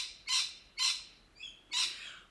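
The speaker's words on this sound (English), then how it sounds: "We are being greeted by the birds as well" Several high, bright bird calls ring out one after another outdoors, four main bursts evenly spaced with a fainter chirp between, fairly close and clear over a quiet background.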